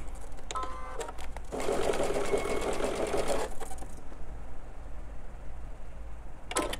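A sewing machine runs steadily for about two seconds as a line of stitching is sewn, a dense whirring buzz standing out clearly above a quiet room hum, with faint handling clicks before and after.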